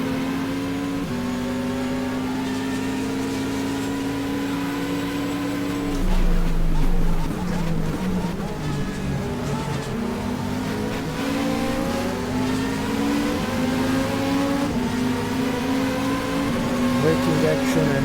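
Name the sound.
Ferrari race car braking and accelerating, GTR2 video game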